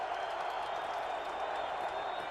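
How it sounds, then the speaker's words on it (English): A dense crowd roars steadily in a football stadium during a 2009 NFL game between the Bears and the Lions, a broad, continuous wash of noise with no clear claps or peaks. "So the crowd getting a little noisier on 1st and 10 for Cutler"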